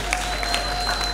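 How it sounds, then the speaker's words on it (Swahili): Brief burst of audience applause for the Changombe children's choir at a children and youth singing festival, a dense steady patter of many hands, fairly close and continuous throughout. "Makofi ni mengi kwao."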